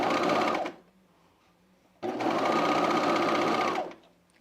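A sewing machine stitches a fleece half zip sweater in two loud, steady runs with a pause between them, no voices.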